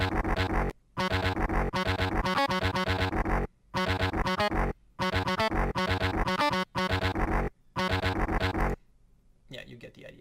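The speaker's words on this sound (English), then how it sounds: "In Powertab it sounds like this." A distorted metalcore guitar riff, played back through Powertab tab software, comes in loud chugging bursts separated by short gaps, with a brief quieter tail at the end and no talking.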